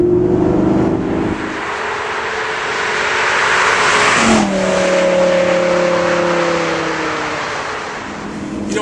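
A Lamborghini LP570 Superleggera's engine revs up loudly and close, climbing through gears with a drop and renewed pull midway, a sustained roaring tone throughout.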